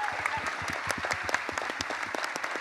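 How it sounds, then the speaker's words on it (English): An audience at an E3 indie games panel applauds, a dense and steady round of clapping from a sizeable crowd that carries on evenly throughout. "I just want us to give a huge round of applause to everyone that participated in the panel"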